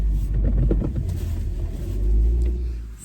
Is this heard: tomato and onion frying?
no